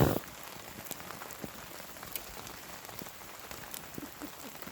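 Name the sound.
rain falling on campsite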